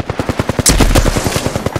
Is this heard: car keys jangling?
no